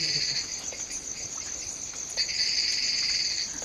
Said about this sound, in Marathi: या बाजूला बेडकं ओरडतात.